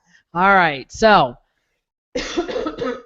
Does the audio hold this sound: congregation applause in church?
no